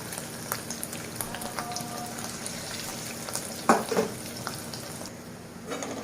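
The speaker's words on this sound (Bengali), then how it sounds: "ঠিক এইভাবেই বাকি সব বড়াগুলোকে আমি ভেজে নেব" Lentil and egg fritters frying in hot oil give a steady, close crackling sizzle with faint scattered pops, and a few brief utensil clinks stand out near the middle.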